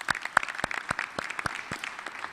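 Scattered, uneven clapping from an audience at a high school awards evening, individual claps standing out sharply rather than forming a dense roar, moderately loud and without talk.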